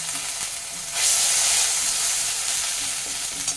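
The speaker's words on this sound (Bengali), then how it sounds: "হাফ চা চামচ কালো জিরে ফোড়নে দিয়ে দিলাম" Black cumin seeds tempering in hot oil, a loud close sizzle and crackling fry that swells and holds steady, with faint stirring.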